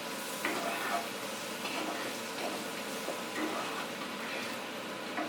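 Green chillies fry in a pan for aloo dum while being stirred, a steady soft sizzle with occasional scraping and light clicks of the spoon, close and moderately quiet.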